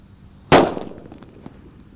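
A Powerman firecracker wrapped in paper goes off with a single sharp, loud bang, followed by a short crackling tail and quiet debris sounds in the open air; no talking.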